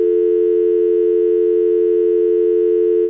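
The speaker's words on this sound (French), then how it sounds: "Ah mais c'est ça qui est mon téléphone." A mobile phone in a hospital room sounds one loud, unbroken electronic tone that holds steady for about three seconds and then cuts off abruptly, with no talking.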